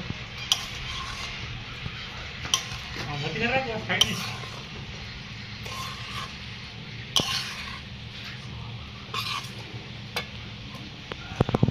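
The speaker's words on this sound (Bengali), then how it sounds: "মশলাটা পুরো আমি মিশিয়ে দেব।" Spices being stirred into a garlic pickle, soft scraping and stirring with occasional knocks of a utensil against the pot, close, while a voice speaks and coughs intermittently.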